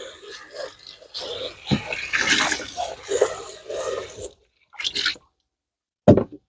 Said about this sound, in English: I'm going to rinse the basin.